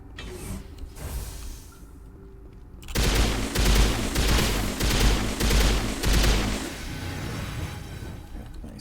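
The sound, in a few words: gunfire in a video game battle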